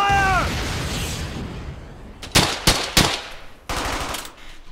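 Gunfire in the World War II game Brothers in Arms: Hell's Highway, with short bursts of machine-gun and rifle fire that crack sharply in quick succession, followed by another burst after a brief pause.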